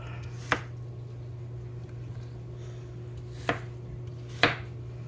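A knife chopping apples on a cutting board while making apple cinnamon muffins, three distinct crisp chops spaced a few seconds apart, close and clear over a steady low kitchen hum.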